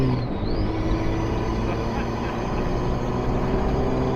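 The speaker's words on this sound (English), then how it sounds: "This is what the truck now sounds like" Steady engine drone and road rumble from a Toyota Hilux Surf 185 with a 3-inch Old Man Emu lift kit cruising along a road, a constant low roar with tire noise throughout.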